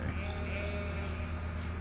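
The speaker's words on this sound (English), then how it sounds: "those poor piggies. You can hear the oinking." Farm animals in the city-building game Cities: Skylines bleat steadily and close by, a continuous livestock call with no gaps.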